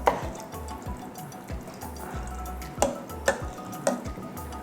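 A spoon lightly mixing chicken biryani ingredients in a pot, giving soft scraping and stirring sounds with a few sharper clinks against the metal, close and fairly quiet with no talk.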